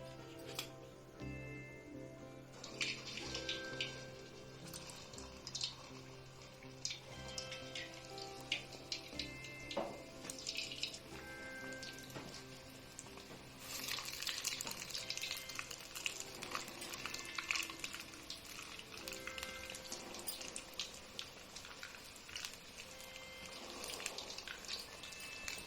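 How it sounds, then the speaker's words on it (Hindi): Bread cutlets fry in hot oil with a faint, steady crackle and bubbling sizzle that stays low and even throughout. "अभी मेरा तेल गर्म हो चुका। अब मैं इसमें जो कटलेट बना के रखी हूँ उसे मैं डालूंगी।"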